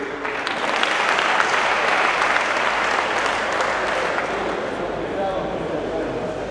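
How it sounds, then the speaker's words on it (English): A comedy show crowd in Kigali claps steadily for several seconds, a dense even roar of many hands that holds level throughout without anyone speaking over it. "So you clap for them."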